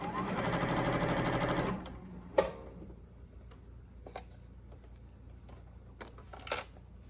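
A sewing machine stitches quilt star pieces in a rapid, steady whir for under two seconds, then stops, followed by a few scattered clicks and handling taps.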